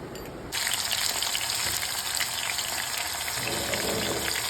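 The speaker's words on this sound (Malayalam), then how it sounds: "കുറച്ചിട്ടിട്ട് വറുത്തെടുക്കാം അല്ലേ?" Sliced ivy gourd (kovakka) fries in a pan of hot oil, a loud steady crackling sizzle that begins abruptly and continues throughout without talk.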